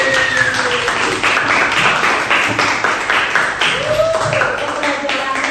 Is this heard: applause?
yes